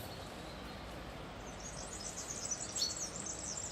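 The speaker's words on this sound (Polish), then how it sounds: "Słyszycie śpiew ptaków?" Faint, high bird chirps and calls near an outdoor swimming pool, sparse at first and then a few clearer tweets toward the end over a steady background hiss.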